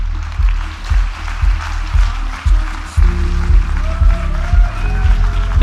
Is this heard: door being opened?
no